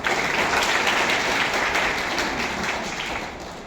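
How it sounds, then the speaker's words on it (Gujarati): A seminar audience bursts into loud, dense applause, many hands clapping together in a steady roar that holds for a few seconds before starting to fade. "હમણાં માટે જોરદાર તાળી પાડો ભાઈ"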